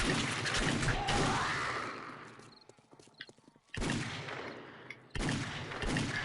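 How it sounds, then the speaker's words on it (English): Magnum exploding crossbow bolts from the game 7 Days to Die burst in loud, dense blasts, with a quieter stretch of scattered small crackles and rattles between them. "Magnum exploding crossbow bolts."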